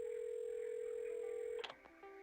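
A steady telephone dial tone hums alone inside the video game Assemble with Care, then cuts off into a short burst of clicking and a brief tone, as if the handset is being dialed.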